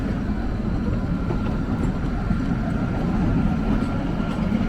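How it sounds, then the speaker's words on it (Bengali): Kalka–Shimla toy train pulling slowly out of Solan station, a continuous low rumble and clatter of the carriages, steady and loud with no pauses. "বাট বেরিয়ে আস্তে আস্তে ট্রেন ছেড়ে দিল"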